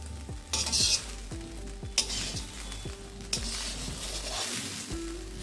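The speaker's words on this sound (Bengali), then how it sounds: "দু মিনিট আমি একটু নাড়িয়ে নিলাম।" Cauliflower rice stirred in a pan with ghee, a spoon or spatula scraping and knocking against the metal in repeated strokes over a soft steady sizzle, close and fairly quiet with no talking.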